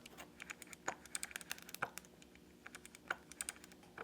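The grind adjuster on a Timemore Sculptor 078 coffee grinder is turned, giving a run of small, quiet, close clicks at an irregular pace over a faint steady background hum.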